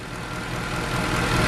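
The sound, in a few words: Mercedes C63 engine running after sensor issue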